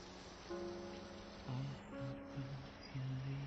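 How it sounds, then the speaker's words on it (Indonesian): Heavy rain pours down in a steady, broad hiss, with sustained tonal music playing over it throughout. "Hujan begitu deras."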